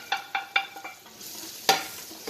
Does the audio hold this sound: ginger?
yes